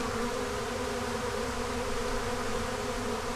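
Honey bees swarm and buzz around a wooden hive box, a dense, steady drone that holds evenly throughout, close and fairly loud with no voices.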